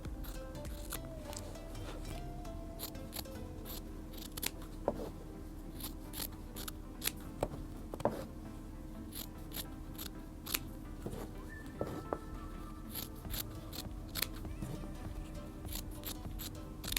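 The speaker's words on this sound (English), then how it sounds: "Just be careful, take your time when using the scissors as well." Scissors snip through a T-shirt in a steady run of small, crisp cuts, close but quiet, over a low constant background hum and with no speech.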